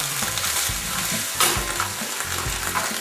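Tomato paste hits a very hot pan and sizzles loudly and steadily, with a burst of sharper spitting partway through and faint stirring scrapes, close and without talk.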